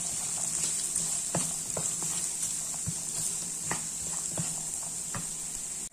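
Small onions frying in a pan for a Kerala-style long bean stir-fry, giving a steady sizzle with scattered pops and a few stirring clacks, close and continuous.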